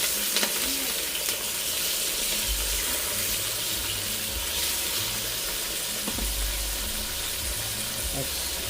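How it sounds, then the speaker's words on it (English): Stacked dauphinois potatoes searing in a hot pan give a steady, close sizzling hiss that runs without a break, over a low background hum and a few faint clicks. "Sear them a bit"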